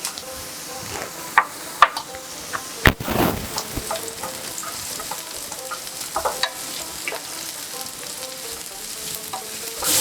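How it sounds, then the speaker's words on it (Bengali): Two large onions sizzle and fry in about half a cup of oil with a teaspoon of ghee for birista, a steady crackling hiss broken by occasional louder stirring scrapes and clinks close by, with no talking. "পেঁয়াজ দিয়ে বেরেস্তা করে নেব।"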